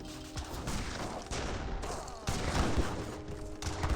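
Heavy cannon and musket fire in a real-time strategy battle in Age of Empires 3: a dense, continuous barrage of overlapping shots and booms. Several heavier blasts stand out above the steady gunfire.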